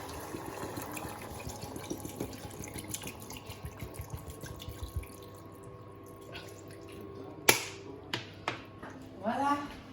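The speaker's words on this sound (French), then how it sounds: "On va remplir d'eau." Tap water running into a pot for Moroccan couscous, a steady splashing stream for several seconds that then stops, followed by a few clanks and drips, with talking heard alongside.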